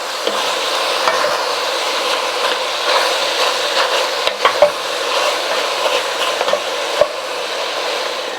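Pork browning in a pan for green chile stew gives a steady, dense sizzle that runs throughout, with a few sharp clicks and knocks of stirring or meat being moved.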